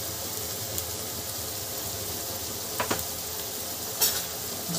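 Tomatoes frying with ginger-garlic paste for street-style pav bhaji, a steady close sizzle with a few soft clinks of a stirring spoon against the pan.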